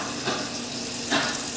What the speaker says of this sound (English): It starts to sizzle.